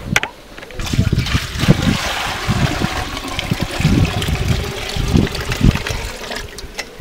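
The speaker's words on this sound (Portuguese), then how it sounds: "Agora eu vou colocar água e vou fazer um teste aqui." Water runs through a rustic homemade shower, a continuous splashing and trickling stream with uneven bursts, close and fairly loud throughout.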